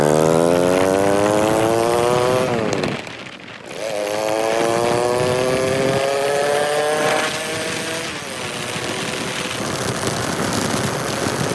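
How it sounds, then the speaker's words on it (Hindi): A Honda Pridor 100cc motorcycle fitted with a 70cc piston runs loud and close, its engine note rising and falling through revs with a brief dip to idle before climbing again, no talking. "बाइक जो अल्हम्दुलिल्लाह स्टार्ट हो चुकी है।"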